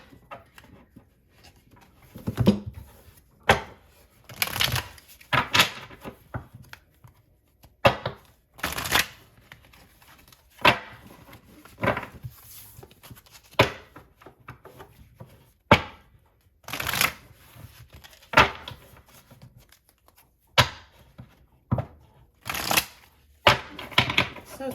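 A Hermetic Tarot card deck is shuffled in repeated brisk bursts of riffling and tapping, close and fairly loud, with short quiet gaps between each pass and no voice over it.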